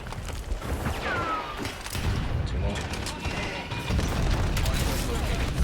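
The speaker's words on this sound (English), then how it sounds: "the nade spam is insane" Repeated grenade explosions and gunfire crackle through a hectic Black Ops 7 multiplayer match at a hardpoint, dense rumbling booms layered over constant battle noise and in-game callouts.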